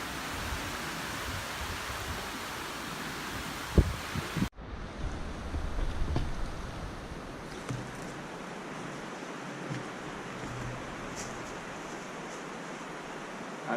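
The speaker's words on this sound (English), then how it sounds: "It shows how windy it's been." Strong wind on a Swedish island during wild camping buffets the microphone in a steady broadband roar. It stays loud and continuous, with a sharp cut partway through and gusts rising and falling after it.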